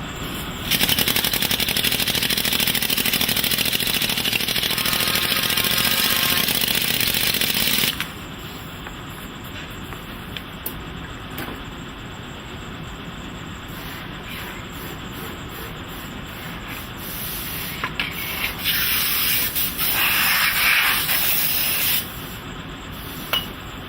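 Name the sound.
air rammer compacting green molding sand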